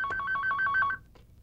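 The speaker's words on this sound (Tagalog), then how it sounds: "pakisagot yung telepono" A telephone rings in a late-1980s home setting, a rapid repeating two-tone electronic trill of about eight pulses close by, stopping abruptly before a faint click.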